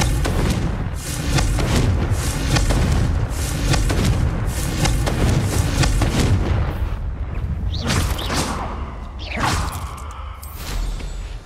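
Hogwarts Legacy's Confringo fire spell erupts against stone walls: a run of loud, roaring booms and rumbles, followed by sharper whooshing bursts and thuds near the end.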